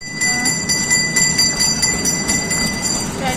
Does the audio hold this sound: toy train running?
yes